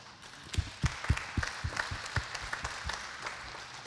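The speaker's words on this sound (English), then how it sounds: "You can clap." Scattered, uneven handclaps from a church congregation at a feast-day service, a dozen or so distinct claps spread across a few seconds, fairly close and moderately loud, with no talking over them.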